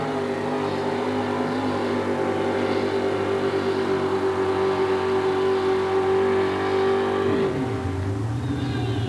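1967 GMC truck with a 431 engine at full throttle in a 1987 Oakland truck competition, a loud, sustained droning engine roar holding steady pitch, then dropping and fading as it slows near the end.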